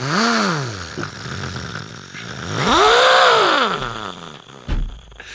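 A voice imitates a motorcycle engine with loud, close, buzzing revs that rise and fall in pitch, in two long swells and a short burst at the end.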